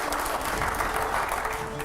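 An audience at a live quiz event breaks into loud, continuous clapping that fills the room for the whole short stretch, with no pauses.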